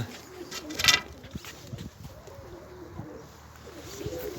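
Pigeons at a smuggler's bird loft coo softly in the background, with one brief sharper call standing out, faint and close-ish over low room noise.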